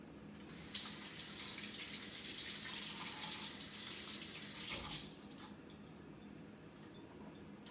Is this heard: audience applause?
no